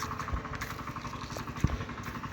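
A small tractor engine runs in a rice field being cultivated for sowing, a steady mid-distance idling chug with light clatter and one sharp knock.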